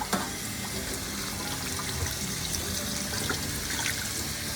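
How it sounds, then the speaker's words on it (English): Steady running cold tap water splashing over spinach in a drainer in a sink, continuous and close, with faint rustles and clinks over the flow. "I have the spinach in a drainer. What I'm gonna do, I'm gonna wash it with cold water."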